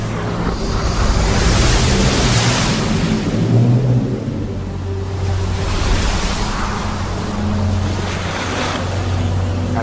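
Dramatized roaring sea surf driven by a strong east wind, a loud continuous wash of crashing waves and rushing gusts swelling and easing throughout, with no voices.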